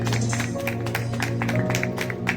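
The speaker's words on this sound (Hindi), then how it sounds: "संत माही मनचंदा के लिए जोरदार तालियों के साथ" A church congregation at a memorial service claps loudly and continuously, many sharp hand claps overlapping in quick irregular bursts over a steady low hum from the hall's sound system.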